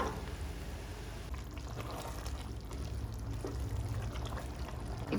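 Water being poured into a pot of bamboo shoot gojju while it cooks, a steady close splashing pour with a continuous liquid rush and no voices.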